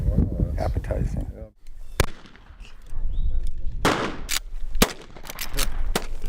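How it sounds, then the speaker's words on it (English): A few sharp gunshots ring out from a dramatic scene, with a couple of crisp cracks amid rumble, music and speech, and a burst of closely spaced shots near the end. "That's how you shoot a gun."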